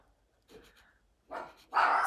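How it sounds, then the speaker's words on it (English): A household dog barks in two loud bursts after a softer earlier sound, close by indoors with no talking. "oh boy, there goes my dog"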